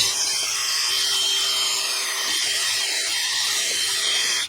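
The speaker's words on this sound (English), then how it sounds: "I'm just going to use a little wire brush on a drill to clean the rust off of this hub" A steady, high-pitched whirring grind of a wire brush spinning on a drill, cleaning rust off a rear wheel hub of a Nissan Pathfinder, runs continuously for several seconds, close and unbroken.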